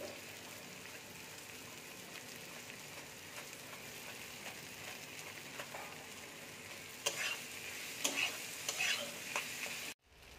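Grated potato and amchur being stirred into a frying vegetarian potol stuffing, a steady sizzle with scraping stirs that grow louder and more clattery toward the end before cutting off.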